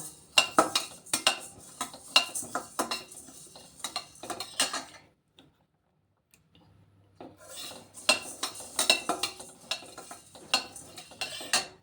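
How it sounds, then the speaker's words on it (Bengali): Dry spices for pickle masala being stirred in a pan, rapid rhythmic scraping and clinking of a spoon against metal, pausing into near silence midway before resuming at the same brisk pace. "এটা 5 মিনিট নাড়ব, তারপর আমি বাকি মশলাগুলো দেব।"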